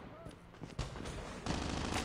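Gunfire in Call of Duty Mobile crackles in quick, fairly faint bursts, growing denser and louder toward the end, with a voice speaking over it.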